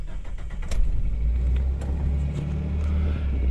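A Geo Tracker with a new head gasket and timing belt starts up and settles into a steady, rumbling idle, close and fairly loud throughout.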